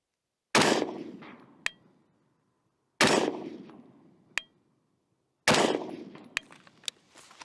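Three widely spaced rifle shots at an outdoor range while an optic is zeroed, each a sharp loud crack followed by a long decaying echo, with a fainter metallic ping of a hit on steel after each shot.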